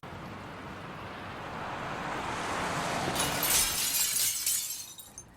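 A glass window breaking as a camera pushes through it in a music video: a rushing whoosh that swells steadily, then a bright, crackling shatter that fades out, no speech.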